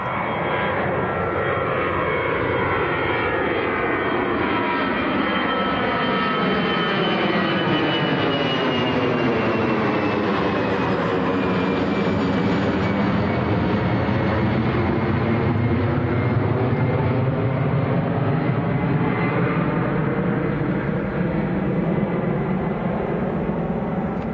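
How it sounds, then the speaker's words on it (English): EasyJet airliner flying past at Manchester Airport, its broad engine roar swelling steadily and sweeping in pitch as it passes close, then slowly receding, loud and continuous with no talk. "This is EasyJet to Alicante."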